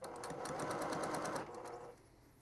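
A sewing machine runs in a fast, close whir, stitching fabric for a reusable grocery bag, then slows and stops.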